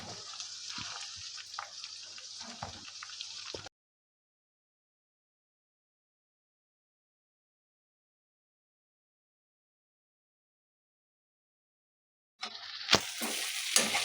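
Chillies frying and sizzling in a pan with a stirring spoon, a hissing sizzle for a few seconds that cuts out to silence and then returns near the end.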